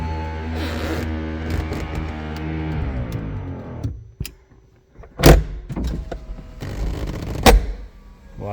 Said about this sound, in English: ensure the sunroof functions properly.